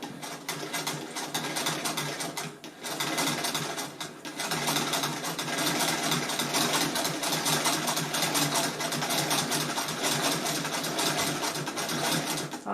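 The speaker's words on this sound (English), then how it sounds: "We'll see if this sews." A vintage 1903 Singer treadle sewing machine runs steadily, its rapid mechanical clatter loud and continuous apart from a brief pause early on, with no talking over it.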